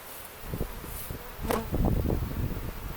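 Honey bees swarm around stacked beehive supers as the boxes are rotated, a steady close-up buzz with louder wingbeat swells as individual bees pass near.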